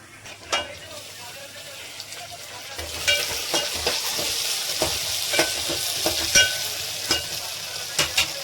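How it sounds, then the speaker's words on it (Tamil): Steady sizzling of onions frying in a pan, with intermittent clinks and scrapes of a spoon stirring. "வெங்காயம் நல்லா வதங்கிடுச்சு."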